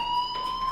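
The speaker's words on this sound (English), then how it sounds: "Hey, do you hear that fire alarm?" A fire alarm in the video game Life is Strange Remastered rings with a steady, piercing electronic tone that holds continuously, clear and fairly loud with no talk over it.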